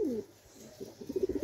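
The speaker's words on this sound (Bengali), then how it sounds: "আর এক সেট টেডি দেখাচ্ছি, অসংখ্য ব্লাড লাইনের কবুতর।" A Pakistani Teddy pigeon coos close by: one short throaty coo, a pause, then a quick run of soft pulsing coos, with no talking.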